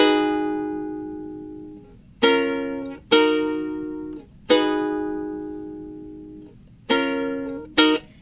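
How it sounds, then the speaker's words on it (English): Ukulele strumming pattern for the intro of a song: six strummed chords in an uneven rhythm, each ringing and decaying before the next, played close and alone with no voices. "the strumming pattern for the intro without any words sounds like this"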